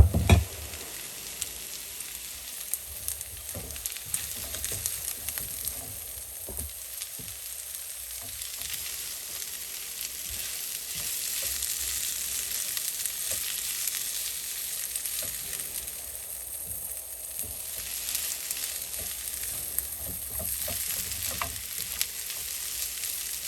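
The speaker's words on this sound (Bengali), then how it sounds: "এইভাবে আরেকটু ভেজে নিব।" Chili flakes fry in a pan for loaded baked potatoes, a steady close sizzle and hiss with occasional soft stirring scrapes and faint crackles, continuing evenly with no talk.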